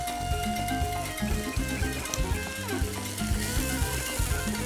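Chicken thighs sear in a pan for a Moroccan-style dish, a steady close crackling sizzle with soft pops running throughout, no one talking.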